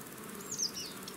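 Honey bees buzz as brood frames are shifted one by one from one hive into another: a faint, steady swarm hum with a slightly louder swell midway, and no voices.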